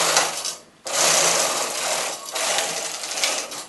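A knitting machine carriage is pushed across the needle bed from right to left in two rapid, loud whooshing runs with a brief pause between them, close and with no voices.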